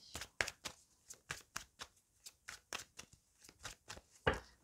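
Oracle cards from a mirror oracle deck are shuffled by hand in a quick run of crisp riffling bursts, a dozen or so close papery flutters and taps, fairly soft, with no talk.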